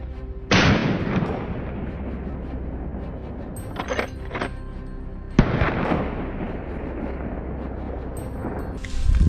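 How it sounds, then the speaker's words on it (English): Rifle gunshots fired at a charging wild boar during a hunt, several loud sharp cracks spaced seconds apart with rumbling echoes and outdoor ambience between them. "I pulled the trigger, but the first shot only made it charge even harder."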